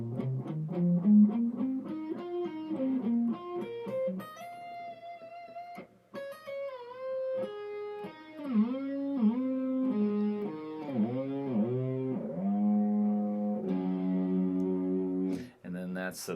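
Electric guitar solo run, a clean-toned rising line into bends, slides and vibrato-laden held notes, played alone and close with a moderate level.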